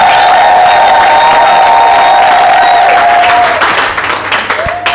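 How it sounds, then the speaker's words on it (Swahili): A church congregation claps for Jesus during a Swahili sermon, dense sustained applause with a few cheers and whoops rising over it, loud and close, tapering slightly toward the end. "Pigia Yesu makofi mazuri asubuhi leo"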